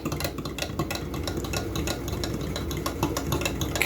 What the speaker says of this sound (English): Let's mix that in there too. Okay, good little stir.